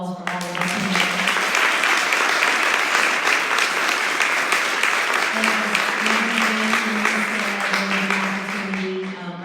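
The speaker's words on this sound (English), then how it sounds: "Can we give a round of applause for all of us?" Audience applauding a panel discussion, strong continuous clapping from a full room lasting several seconds, with a faint tone humming underneath partway through.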